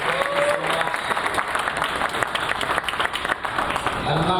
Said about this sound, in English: Big round of applause for Tasha.